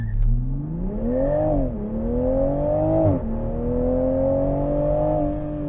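A 2021 Toyota GR Supra 3.0 accelerates hard from 0 to 60 in sport mode on smooth pavement, its engine note rising steadily through two quick upshifts, loud and close with no talking.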